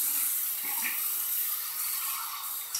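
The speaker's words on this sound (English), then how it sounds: "now I'm gonna do my cold water rinse" Cold tap water runs over a RazoRock chrome shaving brush at a sink, a steady close hiss of flowing water that continues unbroken with no one speaking.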